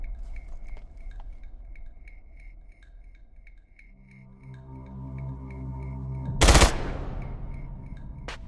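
Gunfire in the tactical shooter Ground Branch: a faint rhythmic ticking at first, then a rising mechanical hum and a sharp loud burst of shots near the end, close and unaccompanied by talk.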